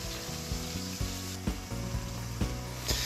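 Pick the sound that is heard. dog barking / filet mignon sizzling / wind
filet mignon sizzling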